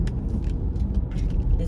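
Steady interior rumble of a car driving, low and continuous, with faint rattles and a brief murmur of a voice over the road noise.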